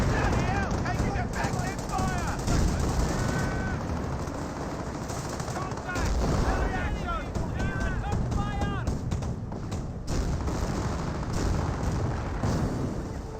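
Autocannon fire in the World War II strategy game Company of Heroes, loud rapid bursts of shots mixed with other gunfire and explosions, continuing through the battle.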